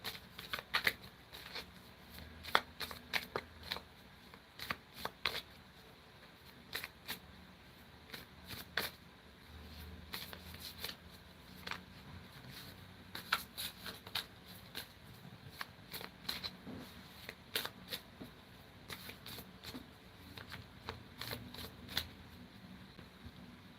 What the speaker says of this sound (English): Put a question and I will pull a card for you.